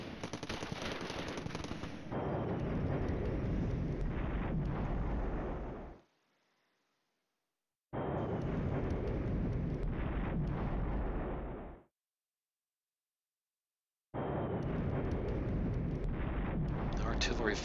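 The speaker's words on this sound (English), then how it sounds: "Artillery falling all over the place." Artillery explosions in the war game Flashpoint Campaigns: Red Storm come as loud bursts of booming blasts and crackling fire, broken by two stretches of silence. Speech may sit under the blasts.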